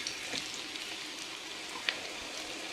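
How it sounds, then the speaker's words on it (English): Sliced onion rounds sizzle gently in warm oil, a steady soft crackle with one brief sharper pop, close by with no talking. "Once the oil is slightly warm, we're gonna add in our onions that are sliced into rounds"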